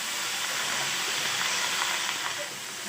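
Flat beans hit a hot pan and set off a steady, close broadband sizzle and hiss that holds evenly for a few seconds, then eases slightly at the end.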